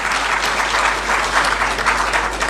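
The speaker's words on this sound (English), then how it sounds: "A round of applause, please." Steady, dense applause from an audience at a formal public event, continuous and evenly loud throughout, with no voices standing out.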